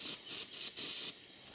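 Brake cleaner aerosol sprays onto dirt bike brakes in several short, sharp hissing spurts close to the listener. There is no talking.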